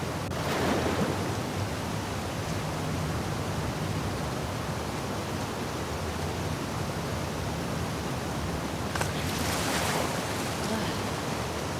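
Water waves in The Last of Us Part II, heard during a swimming section toward an aquarium: a steady, dense rushing wash with a couple of brief louder surges, close and continuous.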